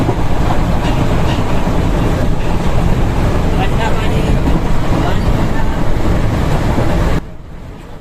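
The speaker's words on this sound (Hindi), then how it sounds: "तो दोस्तों हम लोग अभी निकाल रहे हैं गायसाल रेलवे स्टेशन" The Kanchenjunga Express runs on rails in West Bengal. A loud, continuous rumble and clatter of wheels fills the ride and cuts off sharply near the end.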